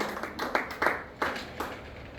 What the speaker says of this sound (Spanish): ¿Puede dar un fuerte aplauso a la gloria de Dios?